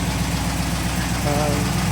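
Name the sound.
rebuilt 272 Y-block car engine running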